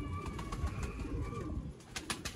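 Pigeons cooing, soft low throaty calls over a steady background hum, with a few faint higher chirps near the end.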